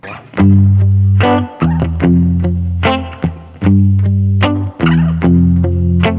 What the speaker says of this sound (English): Spring reverb, really cool.